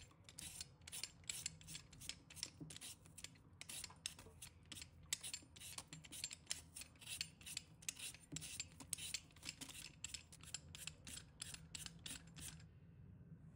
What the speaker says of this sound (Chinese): 先把土豆皮削掉